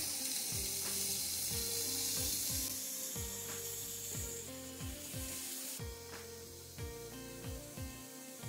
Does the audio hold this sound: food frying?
yes